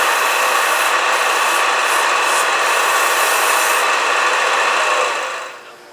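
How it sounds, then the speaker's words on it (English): Sandpaper rubbing a spinning wooden bottle stopper on a lathe, a steady close hiss with light rhythmic scuffs, fading as the paper lifts away near the end. "I finished going through all the grits and finishing all the sanding"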